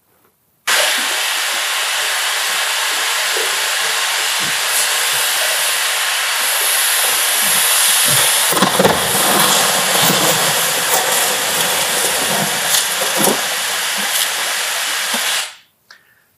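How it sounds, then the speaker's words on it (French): Glacier meltwater pouring in Greenland makes a loud, steady roaring rush, with heavier rumbling surges around the middle as a huge ice block calves into the sea, before the roar cuts off. "Ce que vous avez entendu, c'est toute cette eau qui est en train de fondre."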